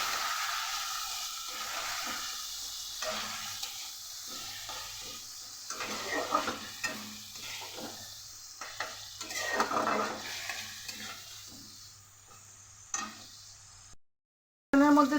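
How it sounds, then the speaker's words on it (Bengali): A masala of Kashmiri chilli powder, turmeric and a little water being sautéed in a pan, with a soft close sizzle and intermittent stirring scrapes, fading briefly near the end. "এবার মশলাটাকে একসাথে ভালো করে কষিয়ে নেব"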